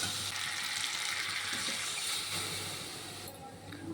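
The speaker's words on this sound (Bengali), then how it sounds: "এখন জল দিয়ে দেব অল্প করে।" Water splashed into a pan of frying cauliflower and potato curry, giving a loud, close, steady sizzle and hiss that eases slightly toward the end, with no voices.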